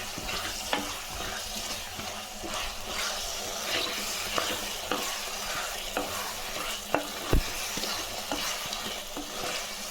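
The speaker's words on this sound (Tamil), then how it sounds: "நம்ம காய் போட்டு வதக்கிடலாங்க, நல்லாயிருக்கும்" Taro root pieces sauté in a pan for a spicy taro curry, giving a steady close sizzle with scraping stir strokes at irregular intervals throughout.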